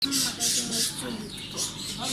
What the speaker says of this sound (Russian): Ой, а это что за птички?